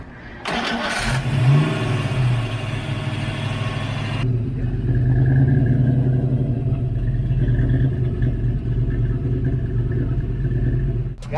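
A coupe's engine cranks and fires up loudly, then keeps running with a low, fluctuating rumble that rises and dips as the idle surges after an idle air control swap.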